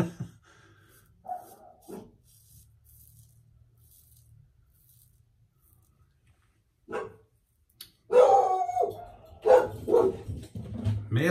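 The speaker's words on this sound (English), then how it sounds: "The in-laws are bringing in some balloons and the dog's freaking out." An indoor dog barks at balloons being brought into the house, with a brief bark early, a short burst near the middle, then a run of loud, close, repeated barks toward the end after a quiet stretch.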